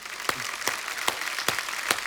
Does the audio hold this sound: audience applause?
yes